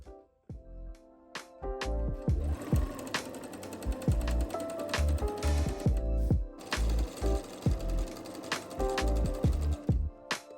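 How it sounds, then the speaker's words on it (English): A sewing machine stitching a blouse hem along the inner fold, with repeated bursts of rapid mechanical rattling and stitching separated by short pauses and clicks, fairly close and alone. "when we get to the machine, we're going to use this as a guide while sewing to fold in another 1/4 inch or 6 millimeters and sewing along the inner fold"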